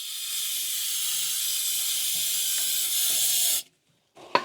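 Aerosol brake-cleaner spray hisses steadily onto a brake rotor during a 1974 Plymouth Duster suspension rebuild, one long continuous blast that stops abruptly, followed by a brief clatter.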